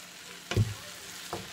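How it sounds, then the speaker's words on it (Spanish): Egg frying with yucca flowers in a pan, stirred with a utensil; a quiet steady sizzle marked by two distinct scraping strokes against the pan, close up with no talk. "Vamos a revolver hasta que se cueza el huevo"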